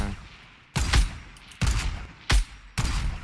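SCAR rifle fire in a video game during a long-range fight, four loud sharp bursts spaced apart, each a broadband crack with a short tail, over quiet background noise.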